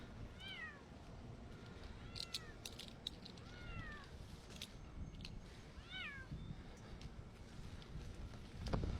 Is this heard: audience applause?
no